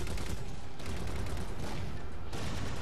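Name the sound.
Covenant enemies shooting at the player in the video game Halo 4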